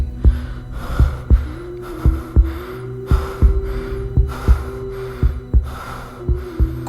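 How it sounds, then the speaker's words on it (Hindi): Steady, fast heartbeat thumps repeat about twice a second under sharp, rhythmic panting breaths, loud and close throughout with no talking. "तो सिर्फ अश्मित के हांफने की और उसकी तेज धड़कनों की।"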